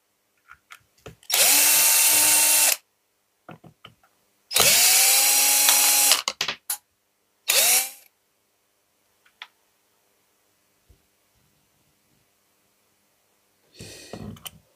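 An electric screwdriver whirs in three bursts, two long and one short, driving screws on a Traxxas X-Maxx 8S RC car, with small clicks and handling noises between them and a faint buzz near the end.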